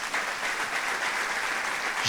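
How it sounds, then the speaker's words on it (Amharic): A church congregation at New Creation Church clapping for its servants, a steady, moderately distant round of applause from many hands filling the room evenly throughout. "የኒው ክሪኤሽን ቤተክርስቲያን አገልጋዮች እስኪ አጨብጭቡላቸው"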